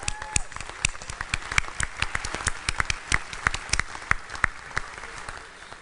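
A convention crowd at the Minnesota GOP gathering claps in a round of applause, with sharp, distinct individual claps rising and falling before fading out at the end.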